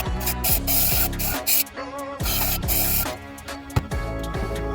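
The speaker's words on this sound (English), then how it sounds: "Blow off duster." Blow-off air duster spraying while cleaning engine valves, loud hissing blasts repeated in short bursts with brief pauses between them, close up and with no talking.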